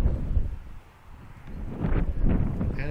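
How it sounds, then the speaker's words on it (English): Steady wind gusting across an open salt plain at an outdoor archery range near Whyalla, a broad low rumble of buffeting against the microphone that swells and eases over a few seconds. "So you're gonna get lots of wind here"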